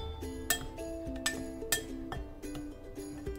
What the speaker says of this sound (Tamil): இந்த மாதிரி நல்லா மிக்ஸ் பண்ணிட்டேன்